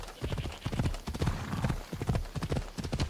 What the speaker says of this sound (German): Sollen wir unser Pferd schnell rufen?